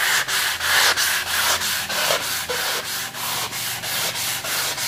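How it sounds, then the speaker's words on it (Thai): A soft sanding sponge is rubbed back and forth over a surface in steady, even strokes, about three per second. The gritty scraping sounds close and loud throughout, with no talking. "เขาจะขัดออกพอๆกันหมดเลยนะครับ เพราะว่าฟองน้ำซอฟลงเต็มหน้าทุกพื้นที่สัมผัสนะครับ"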